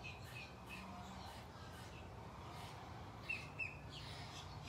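Birds chirp faintly outdoors, with a couple of brief, sharper calls standing out against a steady breezy background, no one speaking.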